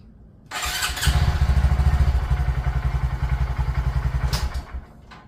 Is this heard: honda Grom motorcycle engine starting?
yes